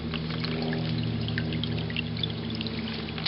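Spring water pours steadily out through pipes from a springbox at a camp, a continuous close splashing flow with a low hum underneath, without pause.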